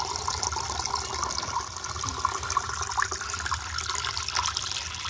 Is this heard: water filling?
yes